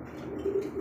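An Iranian Lahori pigeon coos softly and steadily at close range, a low murmuring call that swells slightly in the second half with no one talking.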